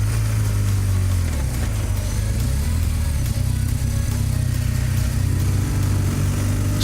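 A BMW R1200GS motorcycle labors uphill in second gear on an old mountain road, its boxer engine a steady, close, loud drone with wind rush, holding a fairly even pitch throughout.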